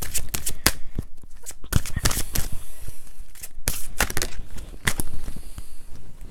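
Fairy oracle cards of the Wild Wisdom of the Fairy Oracle deck being shuffled by hand, a rapid run of crisp, close riffling flicks and slaps with no talking.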